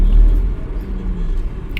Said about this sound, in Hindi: ट्रैफिक की ये सिचुएशन है, एक सेकंड भी कहीं पे रुक नहीं सकते हैं